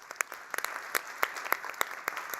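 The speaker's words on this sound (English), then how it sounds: "I think we can make a big applause to our panelists." Sparse, scattered clapping from a conference audience thanking panelists at an assembly on supply chain security, individual claps standing out separately over a quiet room.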